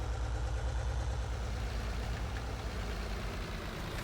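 A tractor engine in Farming Simulator 19 idles at a steady low rumble, even and continuous throughout, with no voices over it.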